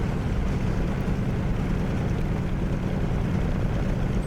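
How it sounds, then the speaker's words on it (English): The engine of an F6F Hellcat in a flight video game runs after startup with a loud, continuous, deep drone, steady and unbroken with no voices over it. "Crack the throttle just a little bit, flip the starter, and fire the engine."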